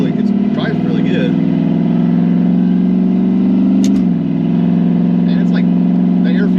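A Chevrolet Camaro engine drones steadily and loudly from inside the car while it cruises, with a slight dip in pitch partway through and faint talk underneath.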